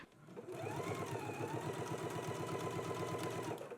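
A domestic sewing machine runs steadily, understitching the fly seam of a jumpsuit with a fast, even mechanical chatter that stays loud and close throughout, with no talking.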